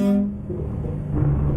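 A truck horn from American Truck Simulator blares loudly for a brief moment at the start, then drops away to a low engine rumble with a faint tone returning near the end.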